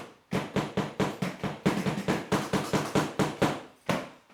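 Rubber pads of an electronic drum kit struck without amplification, a quick series of dull, close thuds and taps in a steady rhythm, with a short pause near the end.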